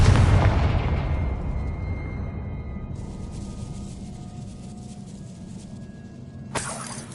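A Confringo spell explosion in Hogwarts Legacy opens with a heavy boom that rumbles and fades over several seconds, with game tones and a later crackling burst.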